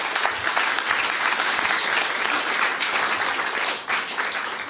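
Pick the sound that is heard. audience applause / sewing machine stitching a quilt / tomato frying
audience applause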